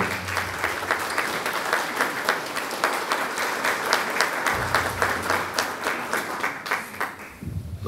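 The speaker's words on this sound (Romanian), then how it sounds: "haideți să o aplaudăm pe Claudia." Sustained applause from an audience, steady dense clapping for several seconds before tapering off near the end.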